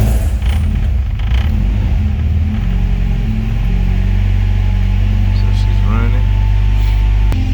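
An all-motor swapped Honda Civic running on E85 cranks and catches, then idles roughly with a loud, steady low rumble; a fuel pump whine runs underneath.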